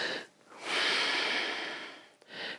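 Breathing during a yoga warrior II pose: a short breath, then a long, strong airy exhale and another brief breath, close and prominent with no talk.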